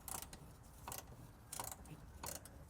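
A socket wrench ratchets a nut loose on a Toyota Sienna during an AC replacement, with four short, close clicking bursts spaced about evenly apart.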